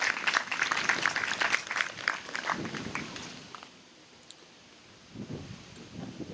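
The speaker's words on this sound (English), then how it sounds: "do a round of applause for all of the team and the board" Applause from a graduation audience honoring a women's co-op team, board and volunteers: dense crackling claps for about four seconds that thin out and fade, then a short smaller burst near the end.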